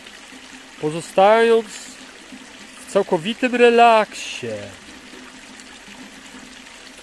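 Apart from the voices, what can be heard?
flowing stream sound in a relaxation recording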